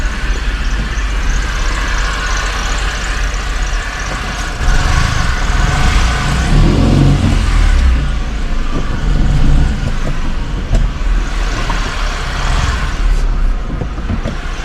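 A Tata Nano car squeezes through a narrow gap between two parked vehicles, its engine and road noise a steady close rumble that swells midway as it passes, with no talking.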